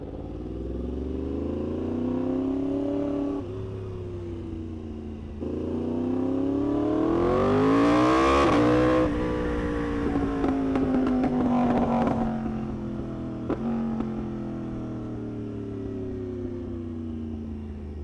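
A superbike (Yamaha R1M or Aprilia RSV4) tuned by Brent Tuning for maximum power in an aggressive track mode, idling loudly, then revving hard in rising and falling sweeps, with sharp crackles and pops as the revs drop.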